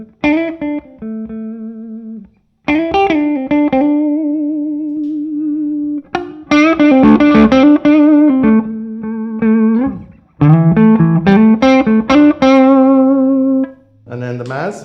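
Electric guitar played through an amp with a classic reverb pedal, phrases of single notes and chords ringing out with lush reverb tails, loud and clear, separated by short gaps with no talking.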